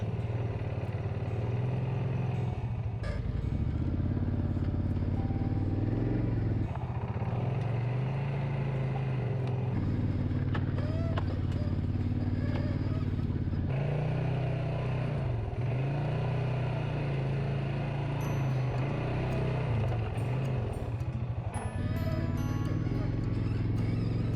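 ATV quad engine drones steadily and rises and falls in pitch as it revs along a trail on Drummond Island, close by, with brief bumps and clatter over rough ground.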